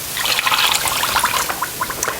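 Water poured into a saucepan already holding sugar gives a steady, close, fairly loud splashing trickle that runs without a break, with no voices.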